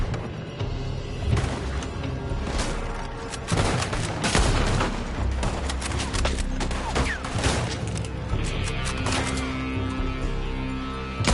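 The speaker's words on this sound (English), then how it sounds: "They're shooting from that building." Rapid bursts of gunfire in Red Dead Redemption 2, a shootout with shots from a building, loud cracks and booms layered densely over one another throughout without pause.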